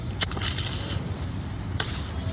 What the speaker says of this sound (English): The shower head hangs quite conveniently inside the door